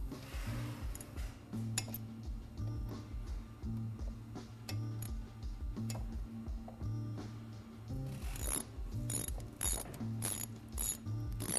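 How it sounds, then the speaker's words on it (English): Ratchet tightening brake caliper bolts during a brake disc installation: rapid, continuous pawl clicking up close, steady in rhythm with brief pauses and a few louder clatters toward the end. "you're going to want to tighten up your caliper bolts."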